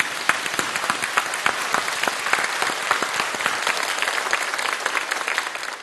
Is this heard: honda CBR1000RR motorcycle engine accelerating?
no